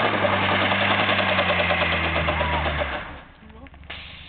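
A Ford Taunus engine roars loud and steady during a burnout, then drops off abruptly to a quieter idle with a few clicks and knocks.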